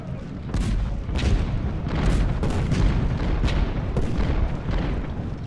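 Cannon fire from Civil War era artillery booms repeatedly in the strategy game Ultimate General Gettysburg, a string of sharp blasts with rumbling tails over a dense battle din.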